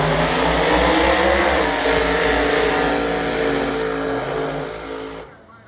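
A AA gas drag racing car, the Cosmic Ray, roars at full power down the strip at Norwalk, a loud, steady, sustained engine blast that holds for about five seconds before cutting off abruptly.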